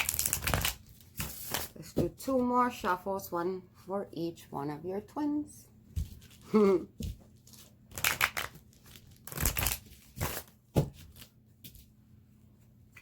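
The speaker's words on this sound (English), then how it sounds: "Let's do 2 more shuffles, one for each one of your twins." A deck of tarot cards is shuffled with crisp riffling and slapping bursts, close and fairly quiet, while someone talks softly between and over the shuffles.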